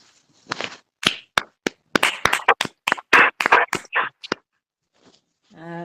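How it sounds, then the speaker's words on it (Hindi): At a women's intercession prayer gathering, a handful of sharp, close claps land in an uneven burst, then stop, and a voice starts speaking at the very end. "आइए हम ताली लगाइए"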